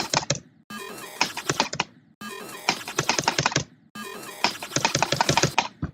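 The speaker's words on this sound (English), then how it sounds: "Okay, let's try with the spacebar" A computer keyboard's spacebar is pressed repeatedly in quick bursts of clicky, close taps, grouped into four clusters separated by short pauses.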